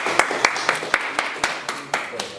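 Scattered, slow hand claps from a small audience welcoming a jazz band at a lunchtime event, about a dozen distinct claps in an uneven rhythm, close and moderately loud.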